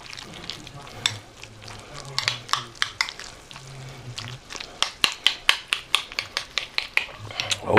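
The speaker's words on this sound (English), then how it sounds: "Stir that up." Keto taco filling sizzling in a pan while being stirred, a soft frying hiss under a quickening series of sharp spatula scrapes and taps against the pan, close with no talking.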